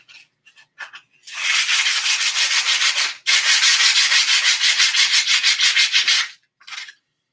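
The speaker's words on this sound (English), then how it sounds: "that nub is sanded perfectly smooth on that" A nub is sanded smooth by hand, a few short scratchy strokes followed by two long stretches of rapid, rhythmic rubbing, then one last brief pass, all close and without talk.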